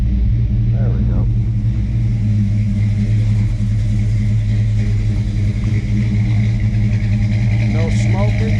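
A 1952 Chevrolet truck with a 350 crate motor idles after a cold start, a loud, steady low rumble close by with an even exhaust pulse and no revving.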